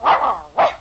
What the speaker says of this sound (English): Gainsey, the famous talking dog, always says, Gaines Meal